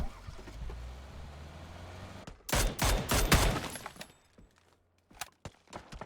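Gunfire in a league match of a video game, a dense burst of loud, rapid shots in the middle of the clip with a few more sharp reports near the end, over a low engine-like rumble.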